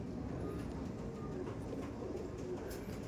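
Pigeons coo softly in low, murmuring phrases against a faint, noisy background, distant and quiet throughout.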